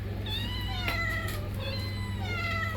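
Several domestic cats meow repeatedly and close by, plaintive overlapping cries with a low steady hum underneath, while a wild jungle cat disturbs them at their food.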